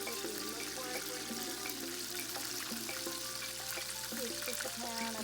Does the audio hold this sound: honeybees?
no